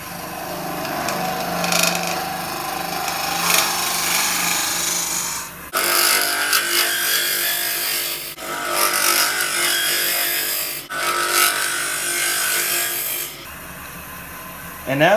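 A turning tool takes light cuts on a wooden goblet spinning on a lathe, with several steady rasping passes separated by short pauses, close and fairly loud.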